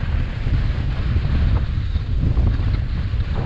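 Steady wind buffeting the microphone outdoors in the frigid Finnish Arctic at -24°C, a constant low rumble with gusty swells and no voices.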